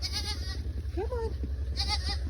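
Goats bleating outdoors on a snowy farm, one or two short wavering cries near the middle of the clip, heard over steady low rumble and a person talking nearby.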